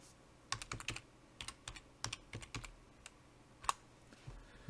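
A command typed on a computer keyboard: irregular bursts of crisp, close key clicks, quiet, with short pauses between groups and no talking.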